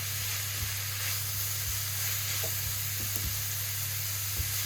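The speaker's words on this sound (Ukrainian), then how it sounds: "Кидаю на сковорідку і цибульку, і морковку." Onion and carrot sizzling steadily in a hot pan, a constant frying crackle with occasional soft stirring taps.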